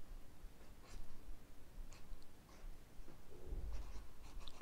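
A pen scratches out a Chinese character by hand, soft intermittent strokes on paper heard up close and faint, with light breathing between them.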